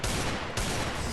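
Rapid gunfire bursts from the Free Fire video game, loud and dense in a fast continuous stream lasting about a second.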